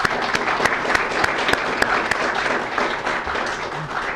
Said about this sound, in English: So we want to take this moment to give Bill a round of applause